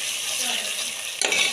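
Crushed ginger and garlic fry in a pan where onions have just been browned. A steady, close sizzle runs throughout, and a brief stirring scrape or clatter comes near the end, with no talking.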